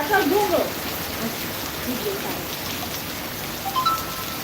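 Steady rain falls in a broad, even hiss of drops, fairly close and constant, with a few brief voices calling out over it.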